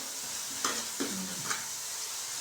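Masala and vegetables frying in oil in a pan for palak paneer, a steady soft sizzle with three brief stirring scrapes of a spoon, close and quiet, no talking.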